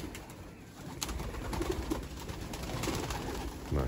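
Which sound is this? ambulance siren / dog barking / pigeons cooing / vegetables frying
pigeons cooing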